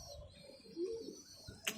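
A pet pigeon gives a soft, low coo in the middle of a quiet moment, followed by a faint click near the end.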